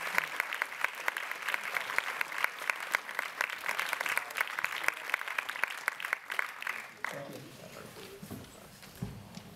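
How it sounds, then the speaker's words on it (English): Audience applause at a Q&A screening event with a film director, steady dense clapping for several seconds that fades out near the end as a voice begins. "So please give him a round of applause."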